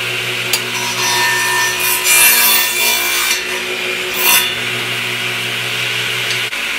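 A handsaw rasps steadily through wood pieces cut at an angle for geodesic dome triangles, with rhythmic back-and-forth strokes, close and loud, over a low constant hum.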